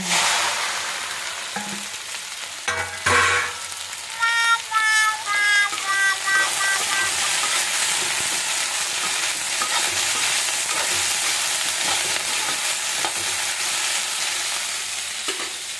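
Okra (bhindi) hitting a hot pan and being stir-fried, with a loud burst of sizzling and clattering stirring that settles into a steady, close crackling fry, no voices.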